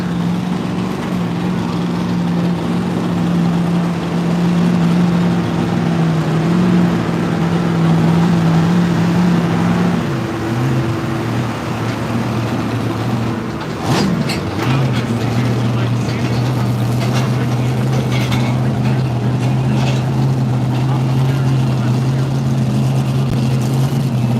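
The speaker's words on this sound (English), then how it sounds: "Good looking tractor, look at that." A tractor engine runs at a tractor pull in Marysville, Ohio, in a loud, steady, droning roar whose pitch shifts around the middle and then settles lower and holds to the end.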